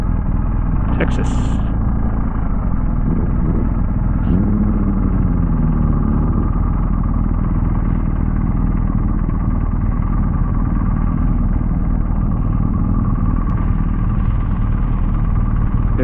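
Motorcycles on a group ride rumble as they roll into a Valero gas station in Chapel Hill, Texas, a steady close engine drone with wind noise and a rider talking over it.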